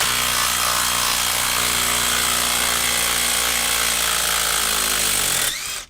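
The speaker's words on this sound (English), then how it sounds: "Makita is going to take out Dewalt's lag." A Makita power tool backs a lag bolt out of wood with a loud, steady, high grinding whir that runs without a break for over five seconds, then winds down and stops abruptly.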